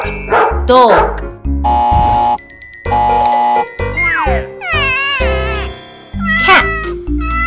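Cartoon dog barks from an animal quiz game, sharp repeated yelps mixed with meow-like cries over steady bouncy background music.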